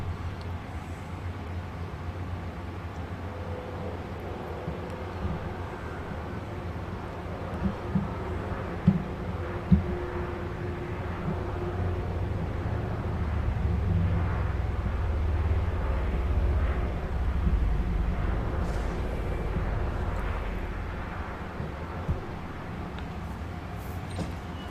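Steady low engine drone of the Anaconda ship in Elite Dangerous, a continuous rumbling hum with a faint higher whine, swelling slightly midway, with no talk.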